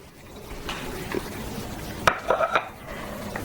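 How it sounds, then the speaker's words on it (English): Onion and garlic cloves dropped into a cooking pot while making Egyptian lamb fattah, giving a quick cluster of close clattering knocks and soft thuds over a low background hum, with no talking. "And we're gonna start dropping everything else in the pot."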